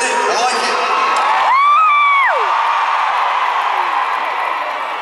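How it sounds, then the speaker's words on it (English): A large London crowd at a concert in 2017 cheers and whoops loudly and continuously, with shrill shouts rising above the roar. "I haven't had a London crowd be this loud."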